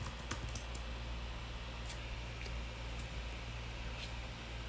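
Typing on a computer keyboard while entering a search term, a quiet run of scattered light key clicks set against a steady low background hum, with no talking.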